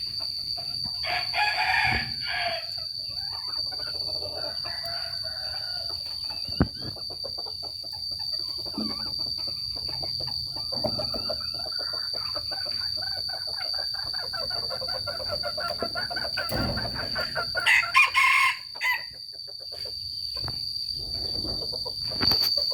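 Roosters crow and chickens cluck at a moderate distance outdoors, several calls rising over a faint insect hum and a steady high electrical whine, with no talking.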